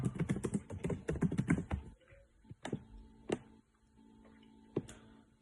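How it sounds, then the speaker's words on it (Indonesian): Computer keyboard typing on a desktop: a rapid run of crisp key clicks for about two seconds, then a few scattered isolated taps, close and fairly quiet in a calm room. "Di sini saya akan ketik halaman utama."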